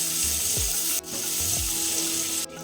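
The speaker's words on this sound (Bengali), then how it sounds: "এখন মিডিয়াম ফ্লেমে 1 মিনিট পেঁয়াজটাকে ভেজে নেব" Diced onion fries in butter and oil in a wok over medium flame, a dense continuous sizzle with a few low knocks and brief scrapes, close and even, no speech.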